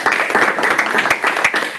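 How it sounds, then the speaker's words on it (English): Brief burst of audience applause welcoming first-time attendees at a Sydney CocoaHeads developer meetup, a dense patter of hand claps from a small room crowd, steady and fairly close throughout. "a round of applause"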